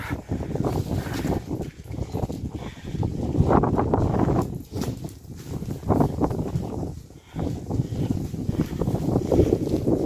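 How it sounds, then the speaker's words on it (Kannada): Strong gusts at a hilltop viewpoint batter the microphone as a deep, rumbling roar that surges and dips in waves, loud and close throughout. "ಏನು ಗಾಳಿ ಬಿಸ್ತಿರ್ಬೇಕು"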